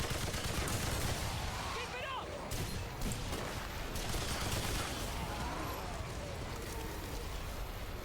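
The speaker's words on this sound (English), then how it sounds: "This turret takes them out, damn." Sustained rapid turret gunfire in the co-op shooter Remnant 2, a dense continuous barrage filling the whole stretch, with voices talking faintly underneath.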